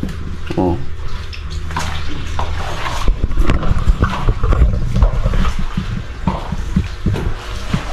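Water poured to wash away dirt splashes and gushes continuously, with clattering and knocks mixed in and voices talking over it in places.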